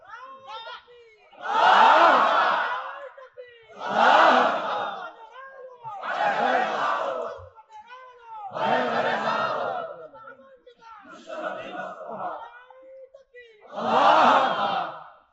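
A large crowd at an Islamic sermon shouts a Takbir slogan in unison, six loud collective chant bursts in a steady call-and-response rhythm with brief pauses between.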